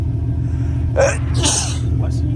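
A single sharp sneeze bursts out inside a car over a constant low engine rumble, followed by brief speech.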